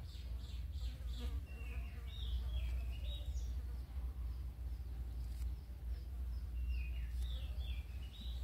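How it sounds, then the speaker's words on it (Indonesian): A fly buzzes steadily at close range, its drone persisting throughout over a low background rumble, with faint chirps in the distance. "gemes sekali, ada lalat satu aja"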